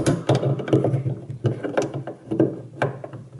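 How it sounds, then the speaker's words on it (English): Tightening a nut on a refrigerator thermostat switch gives a quick run of close, sharp ratcheting clicks in an uneven rhythm, loud and alone. "Tighten the nut up on that"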